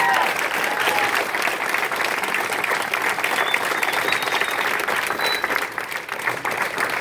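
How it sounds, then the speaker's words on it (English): A crowd at a campaign organizing meeting in a union hall claps in a loud, continuous round of applause, many hands close and dense, with a brief dip near the end before the clapping picks back up. "Give them all a round of applause"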